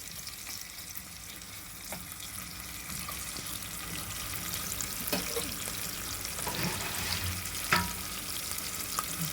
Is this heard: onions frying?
yes